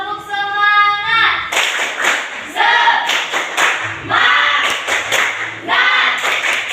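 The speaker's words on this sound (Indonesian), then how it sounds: "Tepuk semangat." A group claps in a quick rhythmic pattern, several bursts of unison claps close by, with a few voices shouting between them.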